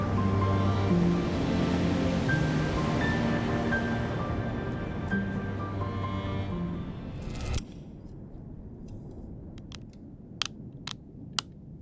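Ocean waves crash during a king tide on the coast, a loud continuous roaring surge of surf and spray that eases partway through, leaving quieter wash with a few sharp splashes and thumps.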